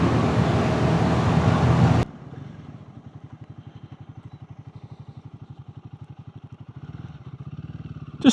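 A Royal Enfield Guerrilla 450 on new tyres starts under a loud burst of wind roar, then settles into a steady, close, thumping single-cylinder idle or low-speed putter with an even rhythm.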